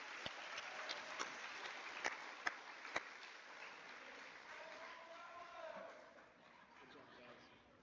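A school audience applauds 8th grade award winners at a recognition ceremony, steady mid-level clapping with a few sharp individual claps standing out early, fading gradually as voices murmur underneath.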